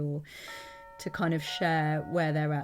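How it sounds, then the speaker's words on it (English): A doorbell chimes with clear ringing tones that sit under and between a person speaking nearby. "Sorry about the doorbell."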